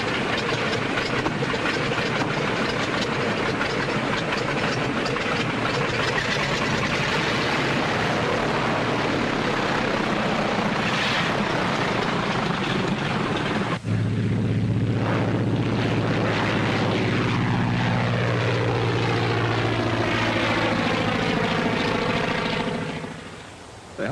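An airplane drones loudly and steadily in flight, a dense engine roar running throughout; partway through, a rising and falling pitch sweeps across it before the noise fades at the end. No one speaks.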